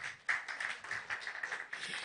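An audience at a media launch event claps, a scattered burst of handclaps with no talk over it that carries on steadily for about two seconds.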